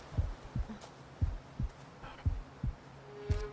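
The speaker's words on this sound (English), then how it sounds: "Oh, this heartbeat music." Low thudding heartbeat music from the game Gerda: A Flame in Winter, paired beats repeating steadily over a faint ambient bed, with no voices.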